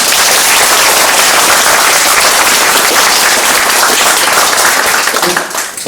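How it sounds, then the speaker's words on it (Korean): An audience at a lecture talk gives loud, sustained applause, dense clapping that fills the room and begins to fade at the very end. "다시 한번 큰 박수 부탁드립니다."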